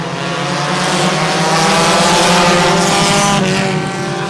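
Street stock cars race around a track in a loud, continuous engine roar that swells as a pack passes close, steady for several seconds with no voices.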